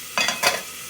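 Potatoes drop into a frying pan of fish and spices, giving two short close bursts of sizzling and stirring before the hiss fades.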